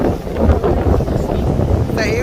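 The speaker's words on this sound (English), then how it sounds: "at the beach where it's like mad windy" Strong gusts buffet the microphone on a windy beach, a loud, close, rumbling roar that swells and dips continuously, with a brief brighter whoosh near the end.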